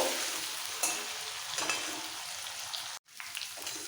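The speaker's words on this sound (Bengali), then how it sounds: "পেঁয়াজটা একটু ভেজে নিতে হবে হালকা কালার চেঞ্জ হওয়া পর্যন্ত পেঁয়াজটা ভেজে নেব" Chopped onions fry in a pan for ghugni, a steady close sizzle with occasional spoon-stirring scrapes and a brief dropout near the end; no talking.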